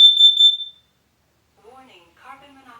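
A home carbon monoxide alarm gives one piercing, high electronic beep lasting under a second, followed by silence and then quiet talking nearby.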